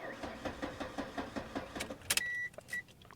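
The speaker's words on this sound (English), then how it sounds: "The pump keeps pulsing under the vehicle. I can hear it." Fuel pump pulsing beneath a 1998 Mercury Tracer that cranks but won't start on a dead battery with poor connections: a steady, rapid train of soft throbbing pulses for about two seconds, then a short electronic beep and a brief chirp.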